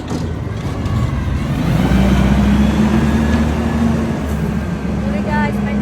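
A garbage truck rumbles past on a street, a steady loud low engine drone with a whining tone that swells and then eases, filling the whole stretch without any speech.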